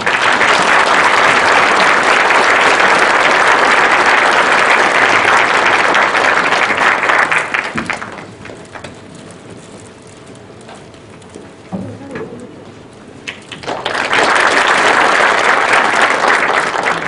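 Sustained audience applause in a lecture hall greeting a professor at a public humanities lecture held at Changwon court, loud for about seven seconds, dying to a quiet pause, then swelling again into full clapping.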